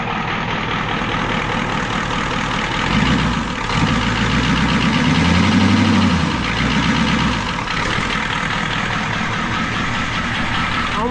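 Old Ford bumpside pickup's diesel engine idling on its first start in ten years, a loud, steady, close rumble that swells briefly in the middle, with no talk over it.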